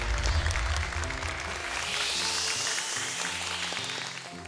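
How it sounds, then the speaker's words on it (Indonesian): Audience applause for contestant Naufal at an Indonesian Quran recitation competition show, a steady wash of clapping that starts strong over a low musical backing and slowly fades toward the end. "Buat tepuk tangan untuk Naufal."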